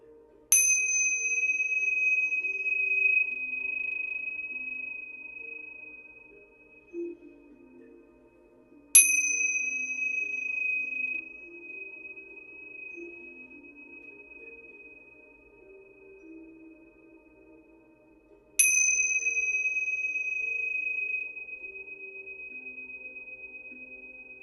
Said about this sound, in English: I'm going to clear this space with these tingsha bells before I do the questions.